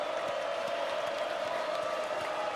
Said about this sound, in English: This Yulman Stadium crowd into it again.